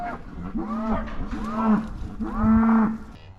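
Cows and calves moo in a series of three drawn-out, low calls, close by and fairly loud, on a farm as the herd is moved to a river pasture for summer grazing.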